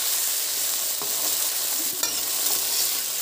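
Tomatoes and spices frying in oil for a traditional Himachali pahari dish, a steady close sizzle with occasional stirring scrapes and no talk.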